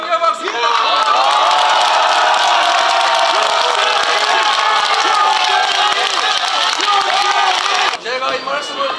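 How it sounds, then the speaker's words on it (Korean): A large crowd at a Democratic Party rally in Cheongju for leader Lee Jae-myung roars with cheers, shouts and clapping, loud and sustained for about eight seconds before dropping off abruptly. "큰 격려 박수"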